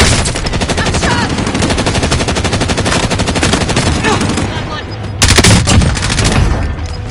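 Rapid automatic gunfire in Call of Duty Warzone on Verdansk, dense and loud, with a brief lull before a final sharp burst.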